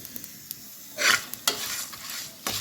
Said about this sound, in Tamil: கருவிராமல் லைட்டாக வறுத்தா போதும்